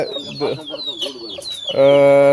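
Chickens cluck in short, busy bursts on a backyard farm, close by and mixed with a person talking, before one bird lets out a long, sustained call at the end.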